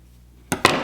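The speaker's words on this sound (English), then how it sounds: "what I'm going to do is I'm going to cut the end" Two quick, crisp snips of scissors trimming the end of a fabric wrap on an embroidery hoop, heard close up in an otherwise quiet room.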